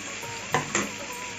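Chopped tomato hits frying mutton curry in a pan: a steady close sizzle broken by two quick, splashy bursts as the pieces land and are stirred.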